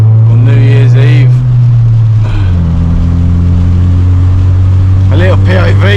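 Mk1 Ford Focus driving through heavy rain on New Year's Eve, heard from inside the cabin: a loud, steady low engine drone with a gear change midway, over a constant wash of road and rain noise. Voices speak briefly.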